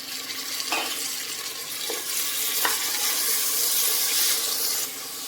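Chopped tomato frying with onions in a pan: a steady close sizzle broken by a few sharp taps of a utensil stirring, with no talk.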